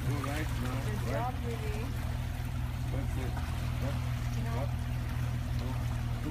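Steady motor drone and rushing water of a boat moving along, with voices talking over it throughout.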